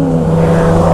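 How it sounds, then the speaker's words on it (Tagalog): A loud car engine idles and revs close by in a steady, sustained roar with a low hum throughout, no voices over it. "Ano yung maingay? Parang ano magandang sasakyan yun"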